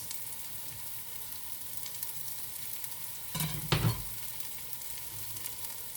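Homegrown green pepper dropped into a pot with onions for a homemade meatball and sausage sauce: a steady low sizzle, with a brief louder hiss and clatter as it goes in, then a quiet fry again.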